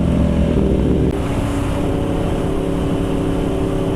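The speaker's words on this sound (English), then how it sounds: "TR6N with straight pipe exhaust." A loud, raw Triumph TR6N motorcycle engine with a straight pipe exhaust rumbles steadily up close, a harsh unmuffled exhaust drone mixed with some wind noise.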